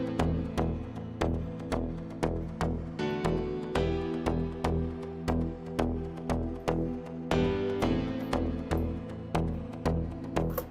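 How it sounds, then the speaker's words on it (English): Grand piano from FL Studio's Flex plugin playing a rhythmic sequence of struck chords and notes, a steady repeating pattern of sharp attacks with sustained decays, clean and alone. "So the grand piano comes from Flex and it sounds like this."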